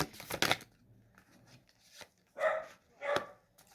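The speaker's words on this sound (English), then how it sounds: "if you hear dogs barking in the background" A few dogs bark in the distance, with sharp bursts separated by quiet gaps, along with some faint knocking and rustling nearby.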